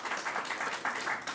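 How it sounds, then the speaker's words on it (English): Brief, fairly quiet applause from a small audience at a state governor's COVID briefing, a short patter of clapping hands that swells and fades within a second or so. "Let's give Mayor Byron Brown a big round of applause."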